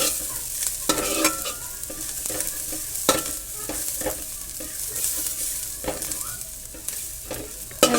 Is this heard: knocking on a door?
no